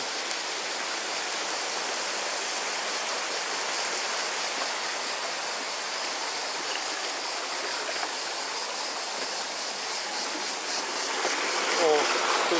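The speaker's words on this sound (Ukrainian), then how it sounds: "вода стікає" Steady rushing water pours and trickles continuously down into a fish-breeding pond at a mountain resort, a dense hiss that swells slightly louder toward the end.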